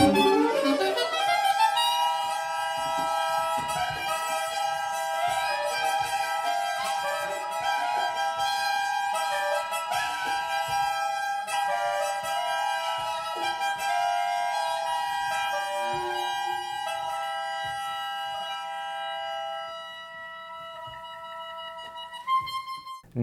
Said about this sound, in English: The altissimo range, a tremolo effect, and a super wide and super fast vibrato technique.